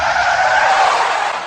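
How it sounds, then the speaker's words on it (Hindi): A car on a night highway brakes hard, its tires skidding in a loud, sustained screech that lasts about a second and a half without a break. "इतनी तेज ब्रेक कोई लगाता है क्या?"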